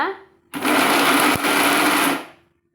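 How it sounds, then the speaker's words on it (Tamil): A kitchen mixer grinder whirs loudly with sugar in its jar, starting abruptly and running steadily for about a second and a half with a brief dip, then winding down to silence. "நம்ம மிக்சி ஜாரில் சேர்த்து திருப்பி இன்னொரு தடவை அரைச்சோம்னா"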